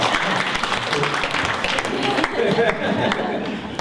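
Applause from a group at a Thai massage session, a dense burst of clapping that fills the whole stretch fairly close and loud, with speech mixed in.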